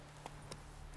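Faint hoofbeats of Roach, Geralt's horse in The Witcher 3, with two soft clip-clop strikes spaced about a quarter second apart over a steady low hum.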